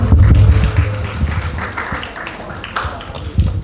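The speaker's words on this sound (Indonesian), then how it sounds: "Tepuk tangan buat kita semua." An audience of madrasah students in a hall claps together, a dense wash of applause that fades gradually, with some talk mixed in.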